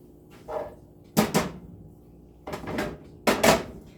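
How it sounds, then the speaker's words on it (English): Taco ingredients dumped into a pan in a home kitchen, several clattering thuds and rattles of food and metal arriving in quick pairs, loud and close with quiet gaps between. "I'm going to take these and dump them in my pan right away."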